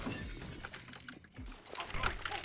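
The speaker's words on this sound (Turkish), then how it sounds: "Duydum çünkü cam kırma sesini." Glass shattering in Counter-Strike: Global Offensive, a brief crash and scatter of shards heard fairly close in game audio, with no voices over it.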